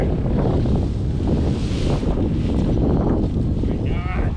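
Strong wind buffets the microphone on an airfield runway where a towing banner is being laid out, a constant loud low roar with gusty swells throughout.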